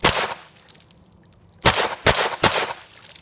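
An ATI GSG 1911 pistol chambered in .22LR fires outdoors on a range: one sharp shot, a pause, then three quick shots about half a second apart, each a crisp crack with short decay.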